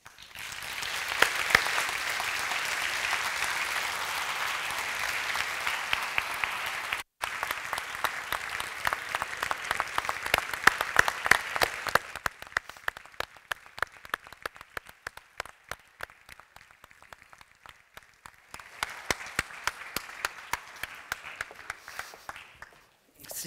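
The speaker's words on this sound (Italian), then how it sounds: "l'applauso così prolungato che ti è stato riservato" Prolonged applause from a lecture audience at an archaeology talk series on Rome's enemies, dense steady clapping that thins to scattered claps midway, then swells again before fading.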